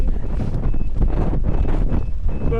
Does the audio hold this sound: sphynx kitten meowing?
no